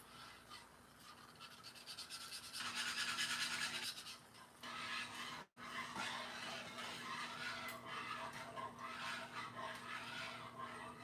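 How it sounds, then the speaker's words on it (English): A whisk works steadily through a lumpy mixture, giving continuous close scraping and rubbing strokes that swell louder partway through, with no talking. "I'm gonna keep whisking this to get the lumps out"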